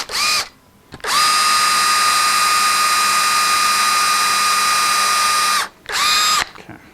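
A power drill bores starter holes in a shop-built table with a hot bit, giving a short whine, then a steady high-pitched run of nearly five seconds and another brief burst at the end.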